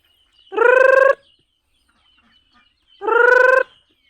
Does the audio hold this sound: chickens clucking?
yes